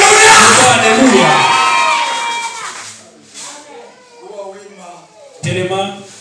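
A church congregation applauds and cheers for Jesus, a loud burst of clapping and shouting that fades out, with scattered voices and a second short surge of crowd noise near the end.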